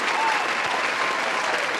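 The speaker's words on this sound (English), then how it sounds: "Let's give a round of applause to cheer him up" An audience at a Snowflake meetup claps steadily for a speaker, a dense, even burst of applause filling the room without a break.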